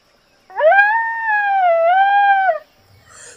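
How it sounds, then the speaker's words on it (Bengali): A single drawn-out howl of wild dogs (dholes), one clear sustained wavering call lasting about two seconds against near silence, as an audiobook sound effect. "বুনো কুকুর"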